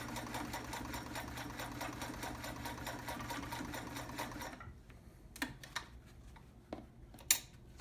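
Vintage Sears Kenmore 158.13200 heavy-duty sewing machine stitching heavier fabric, a steady rapid mechanical whir for about four and a half seconds, then stopping, followed by a few scattered clicks and knocks.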